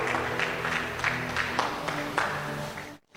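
Church congregation applauding together, a sustained wash of rhythmic clapping with some crowd voices mixed in, fading out abruptly at the end.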